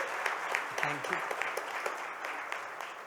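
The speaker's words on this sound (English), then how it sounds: "Let's give him a big round of applause." An audience at a talk event in Surat bursts into applause, a dense wash of clapping from a crowd with a few voices heard faintly among it.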